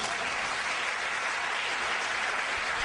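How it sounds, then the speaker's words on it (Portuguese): A church congregation clapping together in sustained, dense applause, a loud even wash of hand claps with no pauses or talking. "Aplauda Jesus."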